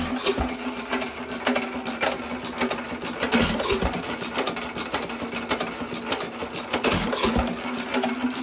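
A 1917 Economy hit-and-miss engine chuffs steadily nearby, a continuous mechanical clatter with a regular rhythm and occasional louder firing beats.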